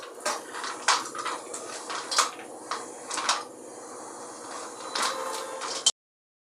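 Roasted pumpkin seeds and pistachios are stirred together in a bowl, giving light clinks and scraping rattles at an irregular pace, fairly soft and close, ending abruptly.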